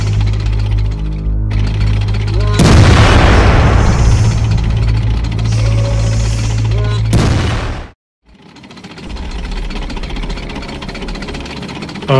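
A cartoon tank fires its big gun: a loud, broadband blast rings on for several seconds under a steady engine drone, then cuts briefly to near-silence before the rumbling resumes.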